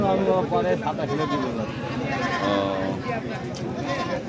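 Goats bleat at the Taherpur livestock market, several overlapping calls close by and fairly loud, mixed with the crowd noise and talking of the busy market.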